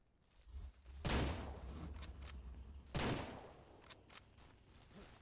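Gunshots fired at a bear in Ranch Simulator, two loud close blasts about two seconds apart, each with a decaying tail, over faint background game noise.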